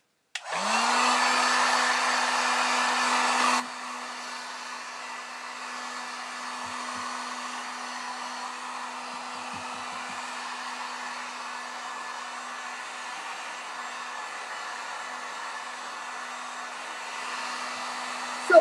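A hair dryer runs continuously to dry paint on a brush during a miniature house makeover. It gives a steady, close whooshing drone with a constant motor hum, louder for the first few seconds and then settling lower until it cuts off.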